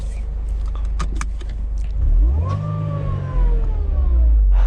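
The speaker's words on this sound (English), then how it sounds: "nice little rev right there" A 1998 Mercedes-Benz SLK 230 with 82,000 miles gets a short rev, the engine note rising sharply and falling back, close and loud, after some light rattling at the start.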